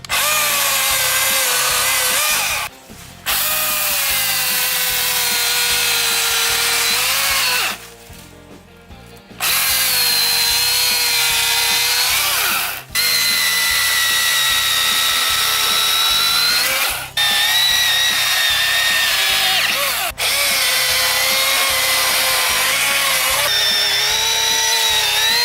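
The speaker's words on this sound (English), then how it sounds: "Milwaukee M18 12 amp power battery chainsaw" Fallen trees are cut after a windstorm with a Milwaukee M18 12 amp battery chainsaw. Its loud, steady high-pitched whine runs close in long stretches, broken by a few short pauses and pitch dips as the chain bites into wood.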